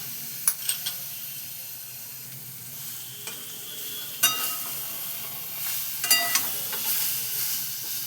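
Mashed boiled fish, picked clean of bones, fries with spices in oil as a soft continuous sizzle, with sharp metallic clicks and scrapes of stirring at irregular intervals and no speech.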